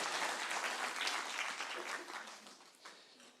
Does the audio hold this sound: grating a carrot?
no